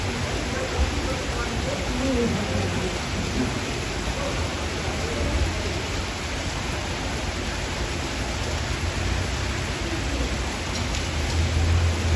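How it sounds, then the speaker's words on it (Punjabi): Steady heavy rain in Gurgaon pours down in a dense, even hiss that continues without pause. "ਲਓ ਜੀ ਮੀਂਹ ਪੈਣਾ ਸਟਾਰਟ ਹੋ ਗਿਆ ਪੂਰਾ ਮੀਂਹ ਚੱਲ ਪਿਆ"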